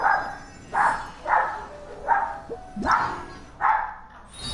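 Dogs in the video game Genshin Impact bark in a steady series of about six sharp, loud, close barks at an even pace.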